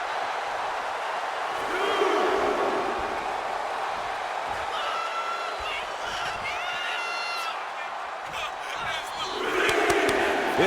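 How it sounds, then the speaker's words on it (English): An arena crowd in the WWE 2K25 wrestling game roars and cheers continuously, a loud dense wash of voices that swells at moments, with a commentator's voice faintly over it. "This capacity crowd is sending him love, and he's sending it right back."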